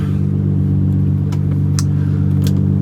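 A Lamborghini Murcielago LP640 V12 idles and revs loudly up close, a deep sustained rumble with a few brief sharper mechanical clicks from the gated shifter area.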